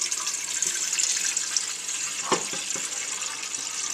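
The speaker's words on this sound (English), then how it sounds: "You want to put water in said pan." Water runs steadily from a kitchen tap into a cooking pot, a continuous bright hissing splash close by with a few small clinks and knocks, and no talking.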